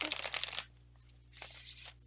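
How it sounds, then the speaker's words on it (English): Two short bursts of tarot cards being shuffled, crisp riffling close by, separated by a brief quiet pause. "let's do another shuffle"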